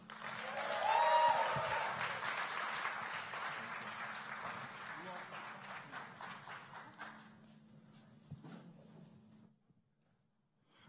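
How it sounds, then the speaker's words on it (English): An audience applauds and cheers as a panel is welcomed onto the stage, with loud, dense clapping at first that thins out gradually and fades to near silence by the end. "So will you please put your hands together and welcome this incredible panel to the stage?"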